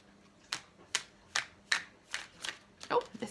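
Tarot cards being shuffled by hand during a relationship card reading, a string of about seven crisp riffling bursts at a steady rhythm, close and fairly clear.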